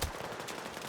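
A quick burst of dense gunfire in a video game, crackling shots packed close together through the whole second, loud and continuous with no talk.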